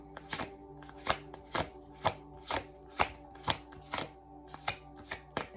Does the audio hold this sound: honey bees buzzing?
no